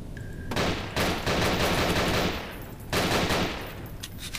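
Rapid automatic gunfire in the horror shooter Nightmare House 2, two loud sustained bursts of shots separated by a short pause, close and dominant with no talk.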